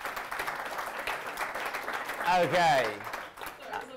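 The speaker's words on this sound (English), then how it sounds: "Big round of applause, thank you." Audience applause at a property investment community event, a steady wash of clapping with a voice speaking over it midway.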